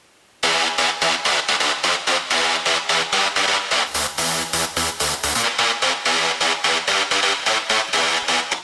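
A ravey sawtooth synth lead runs through extreme midrange-boosting EQ and saturation, hammering out a loud, dense, rapid rhythmic pattern of bright buzzing stabs that starts abruptly and continues alone without pause.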